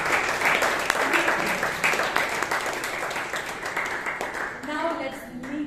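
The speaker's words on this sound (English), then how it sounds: "So let's give a big round of applause." Audience applause at a Toastmasters club meeting in Bangalore, a steady wash of many hands clapping with a voice starting to speak near the end.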